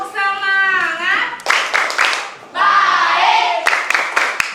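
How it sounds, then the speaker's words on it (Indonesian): Schoolchildren in a classroom clap a rhythmic spirit clap, sharp bursts of claps alternating with their chanting voices. "Tepuk semangat."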